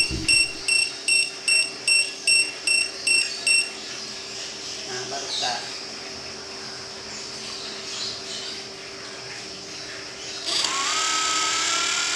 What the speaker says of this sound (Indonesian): Dan motor brushless akan berbunyi seperti ini terus sampai potensio diminimalkan.